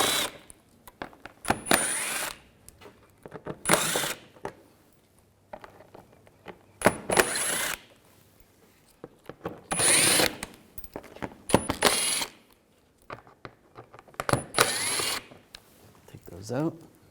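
Power tool driving a T25 socket to back out the undershield screws on a 2011-2018 Volkswagen Jetta, heard as short loud whirring bursts repeated about six times with quiet gaps between, close up.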